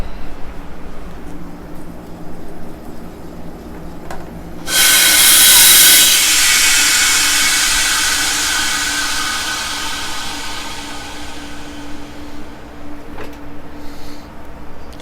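A home freeze dryer vents its pressure after a cucumber chip batch: a quiet machine hum, then a sudden loud hiss of escaping air that slowly fades away over several seconds.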